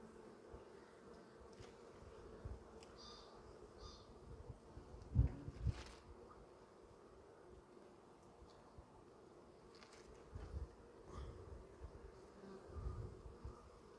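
Honey bees humming around hive frames during a spring hive inspection, a steady low drone with occasional louder passes near the listener and faint handling noises of the frames, no speech.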